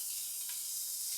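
Dry-brined steaks sizzle on a grill, a steady bright hiss held evenly for a moment, close and alone.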